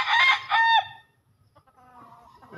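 A rooster crows loudly and close by in a single drawn-out call, followed by softer, quieter clucking and chicken murmurs.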